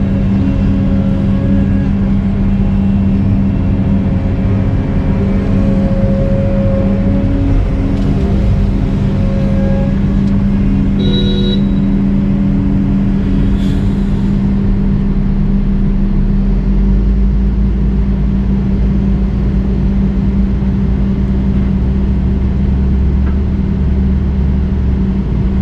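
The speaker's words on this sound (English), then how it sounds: "Nice about that truck is it can drive over stuff." A truck rumbles over rough ground at a pond dredging site on a golf course, its engine a steady low drone that rises and falls slightly, with no talking.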